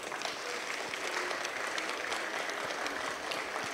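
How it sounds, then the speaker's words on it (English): An audience at a live community arts event claps for the participants, a dense, continuous patter of hands at steady volume with no talk over it. "Can you give everybody a clap?"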